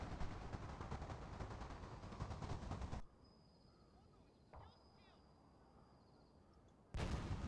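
Cannon artillery fire in Shogun 2: Fall of the Samurai, loud sustained battle noise with booming shots, cutting to a quiet stretch with a few faint clicks and a brief thump before the roar returns.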